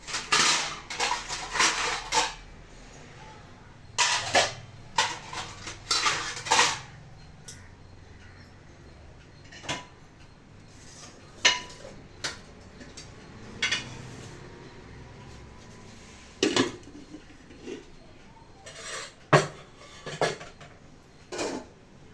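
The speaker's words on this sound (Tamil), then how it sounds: "சாப்பாடு மாற்றியாச்சு வேறு பாத்திரத்தில்" Metal pots and utensils clatter and scrape in bursts as cooked food is moved from one cooking pot into another, with sharp clanks of a spoon against the vessels spread across the clip and quieter gaps between them.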